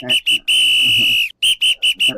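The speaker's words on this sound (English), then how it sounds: "Blow the whistle." A referee-style whistle blown in a series of sharp, loud shrill blasts: two short toots, one long sustained blast, then four more quick toots, alone with no talking.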